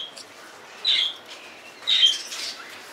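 Birds kept in numbers on a rooftop in an Indian slum give two short bursts of bright chirping about a second apart over a quiet background hiss.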